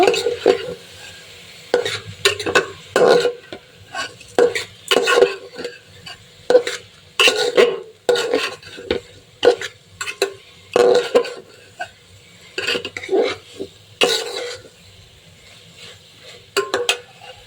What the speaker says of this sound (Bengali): এখানে এখন আমি ধুয়ে রাখা চাল আর ডালটা দিয়ে দেব তারপরে সব কিছু একসাথে ভেজে নেব